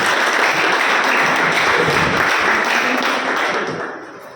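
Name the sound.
loud applause thanking performers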